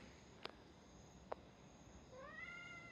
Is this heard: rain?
no